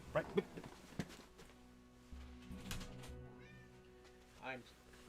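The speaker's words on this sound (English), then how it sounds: "that sound in the background is the sound of my cat yelling at me" A house cat yowls and meows insistently somewhere in the room, its cries faint and distant against a quiet background, with a few soft knocks near the start.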